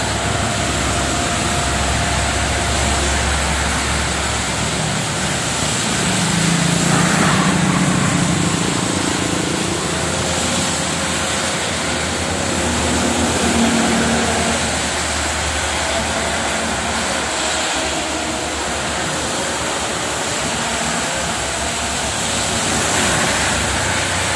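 Heavy rain pours steadily on a car driving along the Jakarta-Cikampek toll road, a dense, continuous wash of noise over a low engine and road rumble.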